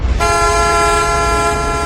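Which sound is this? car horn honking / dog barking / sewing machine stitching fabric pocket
car horn honking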